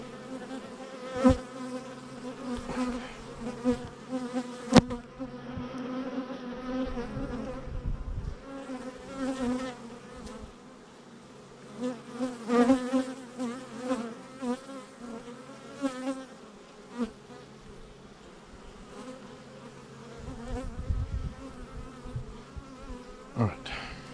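A swarm of honey bees going into a new hive hums steadily up close, with scattered knocks and bumps from the hive boxes and shifting buzz intensity throughout.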